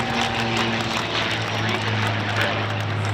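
Loud, steady roar of a WWII piston propeller warbird engine, FG-1D Corsair or P-63A Kingcobra at an air show, with a deep droning hum, sustained throughout and close by.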